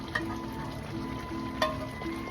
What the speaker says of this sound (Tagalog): ihulog na po natin yung ginayat kong sili